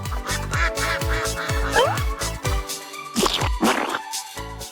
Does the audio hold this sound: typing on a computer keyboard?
no